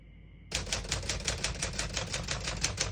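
Typing on a 1956 Smith-Corona Sterling portable typewriter begins after a quiet moment, a close, rapid, steady run of sharp key strikes.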